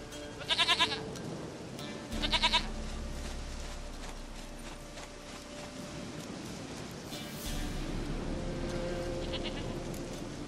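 Short, quavering goat bleats from The Witcher 3 come in brief bursts near the start and again later, moderately loud over a constant background of game ambience with occasional soft hoof sounds.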